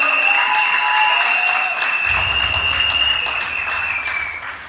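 A live audience at a UNC Monday night political meeting applauds a youth arm member, producing steady, dense clapping with crowd noise that fills the room at close range and tapers slightly toward the end.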